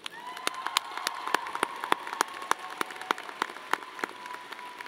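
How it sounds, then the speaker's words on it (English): Sparse, individual claps from a graduation ceremony audience at Sac State's Arts and Letters commencement, spaced irregularly and fairly faint over a steady low hum, with no talking. "Let's give them a round of applause."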